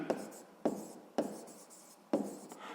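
Pen writing on paper while working a sixth-grade maths exercise, four short scratchy strokes spaced about half a second apart, quiet and close.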